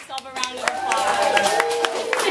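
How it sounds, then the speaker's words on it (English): A group of volunteers at a community sandwich-making charity event gives themselves a round of applause: dense, sharp claps from many people building quickly into steady clapping, close and loud, with voices underneath. "So I just wanted to let you guys give yourself a round of"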